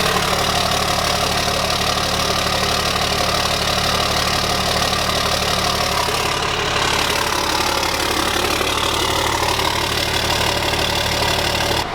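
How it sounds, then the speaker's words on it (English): Straight-piped 12 valve Cummins diesel truck with a 5 inch exhaust idling, a loud, close, continuous rough rumble with a steady knocking clatter, heard alone without talk. "The best sounding diesel that we have right now."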